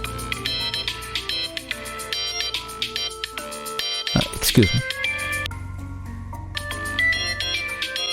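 A mobile phone ringtone plays a repeating electronic melody through most of the scene, loud and close, while a person briefly speaks over it.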